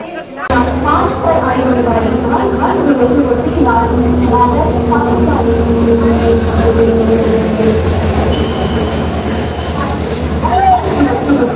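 A crowded express train arriving at Thane station at night rumbles steadily close by with a low droning roar and faint wheel squeal, crowd noise and voices mixed in throughout.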